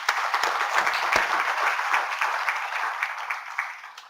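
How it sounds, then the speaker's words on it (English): An audience claps to welcome dignitaries onto the dais at an inaugural session, producing a steady, dense round of applause that slowly thins and fades toward the end. "Now let's welcome them formally with a big round of applause."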